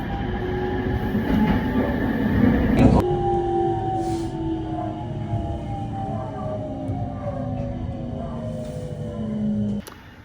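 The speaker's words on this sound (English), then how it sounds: "We're waiting for a express train to pass." Express train passing a station in Japan, a loud close rumble with clattering wheels that lasts about ten seconds, with long falling tones as it moves away before stopping abruptly.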